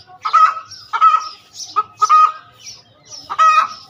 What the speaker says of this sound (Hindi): मेरी ये सारी मुर्गी है